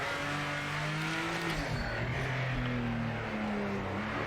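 A Nissan Skyline R34 race car in the Project Motor Racing game revs with a continuous, loud engine drone, the pitch climbing through gears with shifts midway, steady and close without talk.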